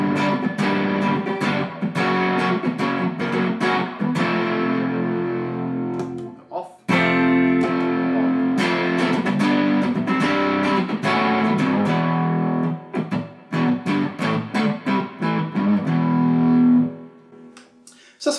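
Electric guitar played through a Schwifty Pickle Boost pedal into a clean amp, a continuous run of boosted, slightly gritty strummed chords and riffs with one brief break midway, loud and close.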